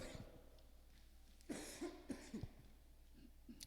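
A priest gives a few quiet coughs and throat-clearing sounds in quick succession during a Mass homily, fairly close in a quiet room, with no speech.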